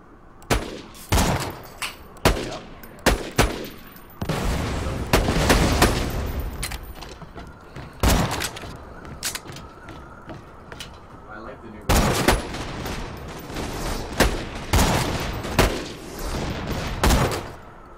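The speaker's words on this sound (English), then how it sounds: "I'm gonna hit him with a sniper rifle." Video game gunfire, loud cracking shots in scattered bursts and single reports with stretches of heavy rumbling firefight between them, and voices at times.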